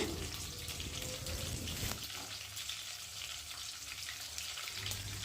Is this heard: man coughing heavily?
no